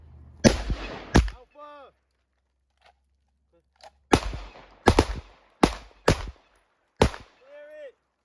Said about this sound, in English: Engage with one hand with the pistol